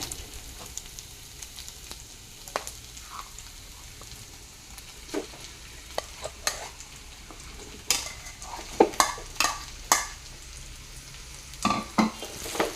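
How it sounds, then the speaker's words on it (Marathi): Potato and cauliflower mixture for paratha filling stirred in a pan, soft sizzling under repeated scraping and clattering strokes of a spoon against the pan, sparse at first and then busier and louder toward the end. "आता छान असे हे मिक्स करून घ्यायचे आपल्याला"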